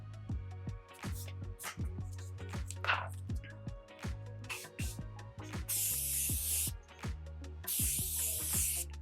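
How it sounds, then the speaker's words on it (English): Morphe Continuous Setting Mist sprays onto a face in two fine hissing bursts, each about a second long, close by against a quiet background. "So I am going to use a little bit of the Morphe Continuous Setting Mist."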